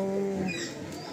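Black and dobaj pigeons in a loft give a short, low, throaty coo near the start, then settle into soft rustling and background shuffle, with no voices.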